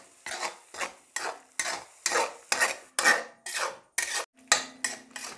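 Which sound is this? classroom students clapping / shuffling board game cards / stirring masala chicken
stirring masala chicken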